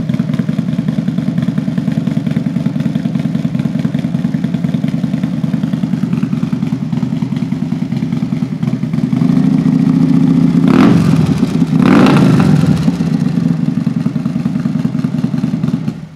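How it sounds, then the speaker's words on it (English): Harley-Davidson Milwaukee-Eight motorcycle with a Thunderheader exhaust, a 135 chrome Fatty build, idling with a steady deep rumble, then revved sharply twice near the end before settling back to idle, loud and close. "Thunderheader, one of the best sounding pipes out there on the M8s when they're built."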